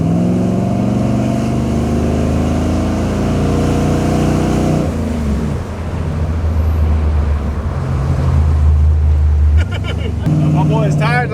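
A 36-year-old GM G-body car on a mountain road gives a loud, steady engine drone with rising and falling pitch, over wind noise, and people talk over it throughout.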